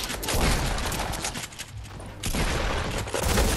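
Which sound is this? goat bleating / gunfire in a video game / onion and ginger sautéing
gunfire in a video game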